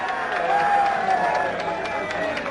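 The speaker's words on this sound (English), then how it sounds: "The crowd have been cheering like this for more than an hour now as the results came to hand." A crowd cheers Gough Whitlam's 1972 federal election victory with a steady, moderately loud roar of voices and scattered shouts. The sound is continuous, with no single dominant voice, across the whole stretch.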